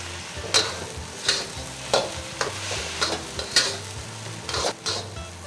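Egg fried rice being stir-fried with soy sauce in a wok: rhythmic scraping tosses of a spatula against the metal, roughly one every second, over a continuous sizzle, close and fairly loud.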